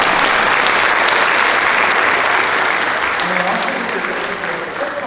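An audience at a university concert for Beethoven's Emperor Concerto breaks into loud, sustained applause and cheering, a dense wash of clapping that fades slightly toward the end.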